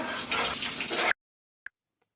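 A shower sprays steadily with a broad hiss for about a second, then cuts off abruptly, followed by a faint drip or click.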